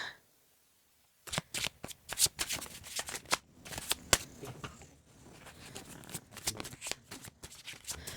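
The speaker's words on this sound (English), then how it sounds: "perhaps we will do another little shuffle and just see." Tarot cards are shuffled by hand in repeated quick riffles and slides, close and crisp, with brief pauses between bursts in a quiet room.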